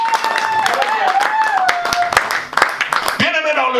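A church congregation claps in acclaim of Jesus, scattered uneven applause mixed under voices and a sustained sung or tonal line.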